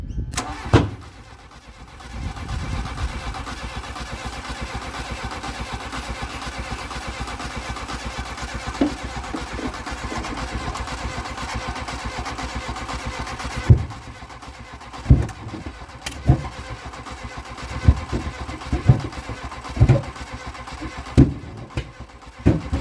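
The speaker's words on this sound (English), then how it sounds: "Making some really interesting noises. I've never heard those kinds of noises from a car before." A long-neglected Mk1 Volkswagen Golf, recovered from a paddock, cranks and catches, then runs unevenly. Its rough idle breaks later into a series of loud, irregular pops and bangs, with no one speaking.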